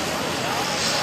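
A pulling tractor engine roars loud and steady as it charges down the track at a 22,000 lb class tractor pull on the Grand River, with an announcer talking over it.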